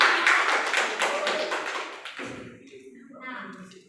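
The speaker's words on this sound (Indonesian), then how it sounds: "beri tepuk tangan pada Ergi" A school class gives a short burst of clapping in a junior high classroom, dense at first and then breaking off as a voice starts talking over the fading room noise.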